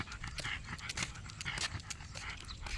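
A small dog pants hard after a long walk, with quick rhythmic breaths repeating steadily and close up, with no other sounds over them.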